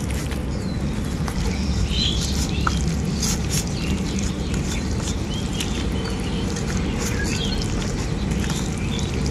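Mango pieces being mixed by hand with chilli and turmeric powder for mango kasundi, a close, continuous wet squishing and pattering that runs steadily throughout, with no voices.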